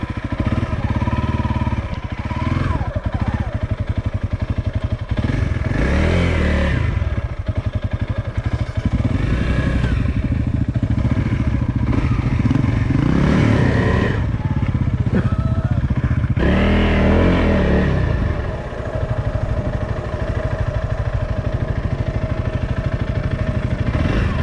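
Dual sport motorcycle engine on a muddy cold trail, loud and close throughout, with repeated revving surges and throttle blips over a steady running rumble, plus some mechanical clatter; no talking.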